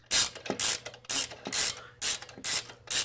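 A motorcycle rear brake adjuster on a Yamaha Radian ratchets into its notches, making a crisp, close series of about seven regular clicks, each with a short metallic rasp and brief pauses between.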